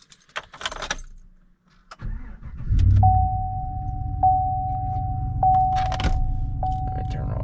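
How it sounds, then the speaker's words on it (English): Cold start of a Chevrolet Silverado truck fitted with an MBRP exhaust: keys jangle, then the engine fires and settles into a deep, steady idle rumble with a thin chime tone running over it. "Love the sound of this truck."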